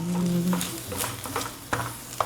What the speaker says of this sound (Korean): 밥을 좀 볶아 보겠습니다